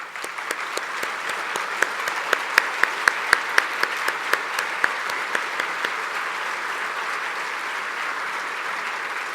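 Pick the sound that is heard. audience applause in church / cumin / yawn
audience applause in church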